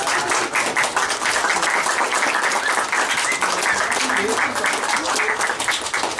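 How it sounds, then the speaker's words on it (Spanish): Guests at a quinceañera party in Bañón, Zacatecas, clap continuously in a dense, lively stretch of applause that stays steady throughout. "ahora hay que dar el aplauso bien bonito"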